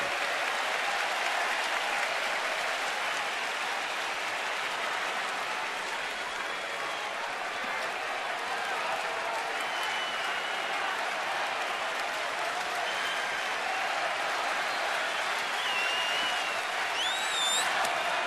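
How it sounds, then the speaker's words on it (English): A stadium crowd at a San Francisco Giants versus Washington Nationals baseball game cheers in a loud, sustained roar for about eighteen seconds, with a few whistles near the end. "They are cheering like first place fans right now"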